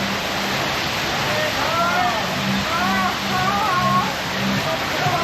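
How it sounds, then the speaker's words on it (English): A theme park boat ride at Walibi Holland passing through a gentle waterfall: a constant broadband rush of falling water fills the whole stretch, with faint distant voices and soft tonal chirps under it. "Not too much of a severe waterfall there, so I don't think people are going to get absolutely soaked coming through"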